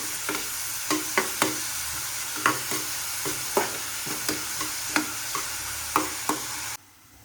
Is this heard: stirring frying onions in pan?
yes